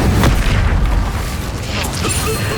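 Spell explosions boom and burst in the Hogwarts Legacy video game during a chaotic duel, loud and continuous, with low rumbling impacts layered over each other.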